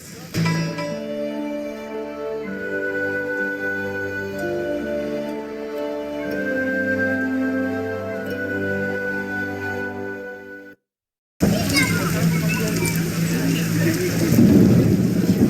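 Rain and storm noise from The Witcher: Enhanced Edition, a dense hiss of rainfall with low rumbling that starts suddenly after a brief silence and follows a stretch of orchestral music.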